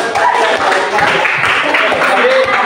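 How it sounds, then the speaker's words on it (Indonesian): A classroom group claps for a presenting group, brisk scattered applause close by with voices and chatter mixed in under it, lasting only a few seconds. "tepuk tangan dulu buat kelompok"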